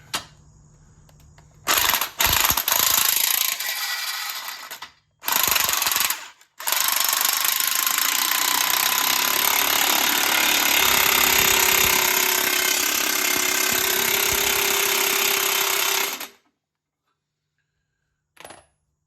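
Hydraulic ATV lift converted to a ballscrew, set under a Banshee ATV, grinding and rattling loudly in several bursts with short gaps, then one long harsh mechanical run before falling silent.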